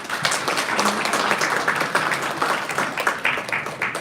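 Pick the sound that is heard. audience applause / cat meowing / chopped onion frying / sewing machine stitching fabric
audience applause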